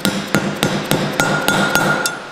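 Hammer blows driving valves one by one into a VW TSI engine cylinder head, eight sharp metallic knocks in a steady rhythm, close and loud, with no talking.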